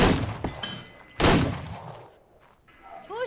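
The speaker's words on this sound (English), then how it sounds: "Who's shooting in my base?" Gunfire in Call of Duty: Black Ops, a couple of loud sharp shots separated by a pause, the second one heavier and longer-tailed, followed by quieter game sounds.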